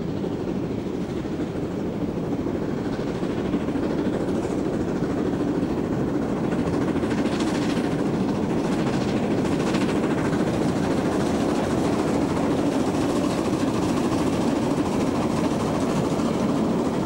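Molli narrow-gauge steam locomotive of the Bäderbahn hauling its train up a steep 16.6 per mille gradient near Kühlungsborn Ost, a continuous loud rumbling roar with rolling wheel noise throughout.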